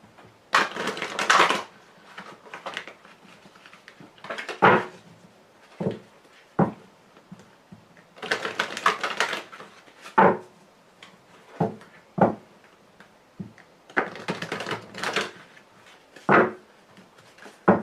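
Lenormand playing cards being shuffled and cut by hand, a series of crisp riffling bursts and short taps in irregular clusters, close and fairly quiet with no talking.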